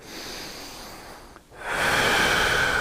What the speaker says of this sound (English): notice how I'm breathing as I go toward the side, inhaling and come back to the middle